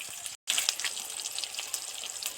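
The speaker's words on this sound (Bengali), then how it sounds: "সবার আগে তেলের মধ্যে দিলাম বেগুনটা তেলের মধ্যে ছাঁকা তেলে ভাজা" Eggplant deep-frying in hot oil as the first step of a fish curry, a steady bright sizzle with crackling pops that drops out for an instant near the start.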